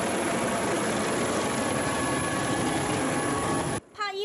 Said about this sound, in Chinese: 空勤直升机出动抢先吊挂